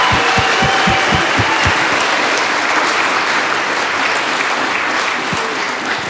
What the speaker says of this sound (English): Will you give these guys another huge round of applause?